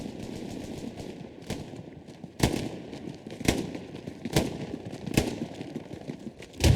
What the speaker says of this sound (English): Two nades going out from El Sepsis.